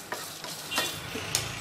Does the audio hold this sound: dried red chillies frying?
yes